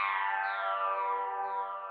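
A washed-out synthwave pad swells in a sustained, bright chord drenched in reverb and delay echoes, smoothly shimmering and trailing off gently over about two seconds.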